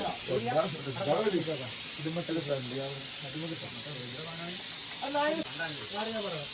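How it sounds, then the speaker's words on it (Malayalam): A pressure cooker on the stove for chicken curry lets out a steady, continuous steam whistle-hiss throughout, while people talk close by over it. "നമ്മളെ ചിക്കൻ കറിയുടെ ആദ്യത്തെ വിസിൽ അടിച്ചിരിക്കുകയാണ്."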